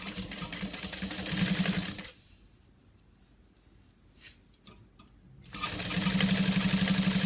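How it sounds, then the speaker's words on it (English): A sewing machine at a number 5 stitch length runs a seam along the long edge of a vinyl handbag, a close rapid whirring hum that pauses for a few seconds and then resumes. "I sewed up the 1 short edge. We're going to come down the long edge."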